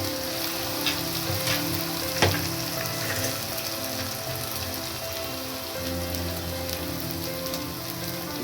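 Spices being stirred into daliya roasting in a pan over a low gas flame, a steady soft sizzle and scraping crackle with one brief sharper clink, close and continuous.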